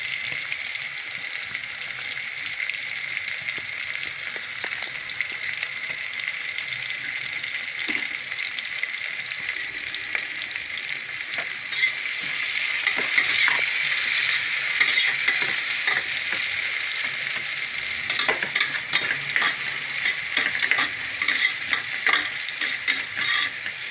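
Large onions fry in oil for mushroom biryani with a steady, close sizzle and crackle throughout, punctuated by repeated scraping and stirring strokes of a spoon against the pan.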